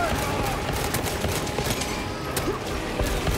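Rapid, dense gunfire fills a battle in the video game Warhammer 40k: Space Marine 2, with constant layered shots and impacts under loud combat noise.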